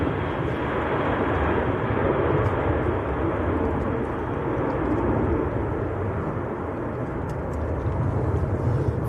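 An Aer Lingus airliner departs Manchester Airport for Bridgetown on a windy day, its jet engines a loud, steady, rumbling roar held throughout, with gusts of wind and no talking.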